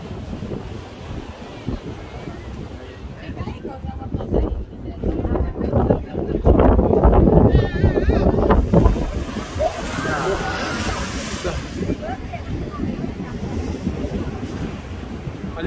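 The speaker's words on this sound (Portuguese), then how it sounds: "A água, na verdade, respinga, né? Bate nas pedras e respinga." Heavy sea swell crashes and splashes against coastal rocks, a loud rolling surge buffeted by strong wind noise on the microphone, building to a peak midway and then washing on steadily.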